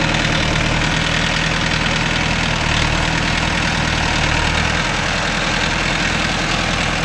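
A Mahindra Novo 605 S tractor engine labours steadily while pulling a five-tine cultivator through sandy soil, a loud, continuous, close diesel drone with a slightly knocking, rumbling texture and no voices.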